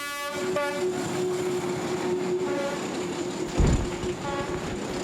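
A train rumbles past nearby in the Vietnamese jungle with a sustained horn blast and rhythmic clacking of wheels over the rails.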